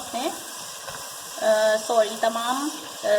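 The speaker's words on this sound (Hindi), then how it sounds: "ये देखें 2-3 मिनट जब हम इसे भून लेंगे" Food sizzles while being fried in a pan for a bhindi fry and mutton biryani recipe, giving a steady frying hiss under a person speaking.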